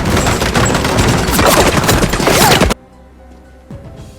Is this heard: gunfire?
yes